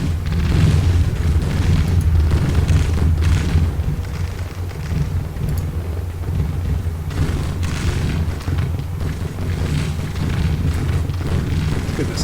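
Artillery fire and explosions in the Grand Tactician: Civil War strategy game, a dense, continuous rumble of low booms rolling under sharper crackling bursts throughout, with some faint talk beneath.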